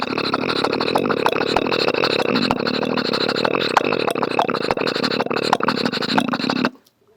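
One voice imitates a train, a motorcycle and a horse-drawn tonga all together: a loud sustained engine drone layered with rhythmic clip-clop clicks, running about six and a half seconds before stopping suddenly.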